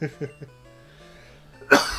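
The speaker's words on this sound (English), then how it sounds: "did I cough over Bulbasaur?" A few short coughs, then a quiet pause and one louder, sharper cough close by.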